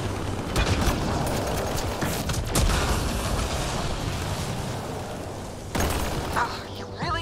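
Combat in Mass Effect Andromeda, with steady gunfire and rumbling explosions forming a dense, loud wall of noise, and a sharper burst near the end that fits a grenade going off.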